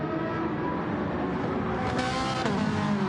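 A Gran Turismo Gr3 race car roars past another car in an online league race, a steady loud engine drone with rising pitch as it sweeps by, a brief surge near the end.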